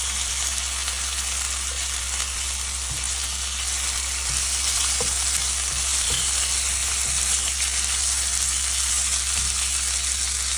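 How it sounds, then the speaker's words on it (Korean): Seasoned meat sizzling on a grill, a steady dense crackle and hiss throughout, with occasional faint clicks of stirring. "와, 진짜 이거 고기 굽는 소리는, 와, 진짜 그 아주 잠 잘 오는 소리입니다"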